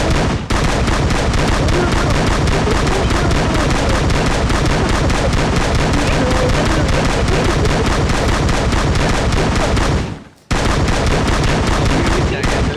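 Shotgun fire with unlimited ammo in the BGMI mobile battle royale game, a loud, dense, nonstop barrage of rapid shots that breaks off briefly near the end, with a voice speaking over it.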